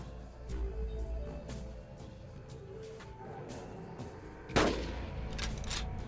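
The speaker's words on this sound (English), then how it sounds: "one back-of-the-throat shot brings this small Tyrannosaurus down" A single loud gunshot fired at a small Tyrannosaurus in the Carnivores hunting video game cracks out sharply after several seconds of low, rumbling outdoor game ambience, with no talking.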